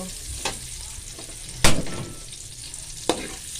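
Onion fries in oil in a pan with a continuous close sizzle, and a few sharp scrapes as it is stirred.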